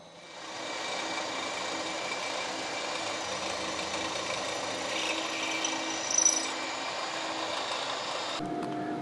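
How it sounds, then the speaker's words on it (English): A 1/4 inch end mill cuts steady and continuous for about eight seconds on a scooter front-end part, a dense grinding, rasping hiss with no talk, stopping abruptly near the end. "so I'm going to start out with a 1/4 inch end mill."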